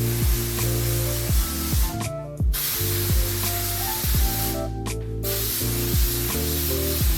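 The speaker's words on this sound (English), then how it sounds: "I'm going to spray this onto my hair." Two short bursts of oil mist sprayed onto hair cut through a steady backdrop of music, each lasting about half a second.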